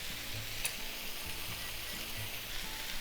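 Chicken sizzling in a pan as seasonings go in over low heat for marmalade teriyaki, a soft, continuous frying hiss with faint stirring scrapes, close by and fairly quiet.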